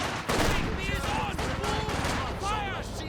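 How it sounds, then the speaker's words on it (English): Machine gun bursts and battle fire from a Company of Heroes 2 1v1 real-time strategy match, dense and continuous at mid loudness, with a commentator talking over the gunfire throughout. "that machine gun revealed itself shooting at the quad"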